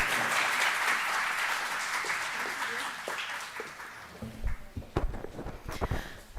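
An audience applauds to welcome a professor at a G20-themed talk in India, a dense, steady clapping for about four seconds that thins into scattered claps and shuffling thumps before stopping.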